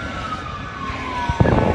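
Emergency siren wailing outdoors, a steady drawn-out tone sliding slowly downward, mixed with a lawn machine, its distance unclear and nothing to compare it against.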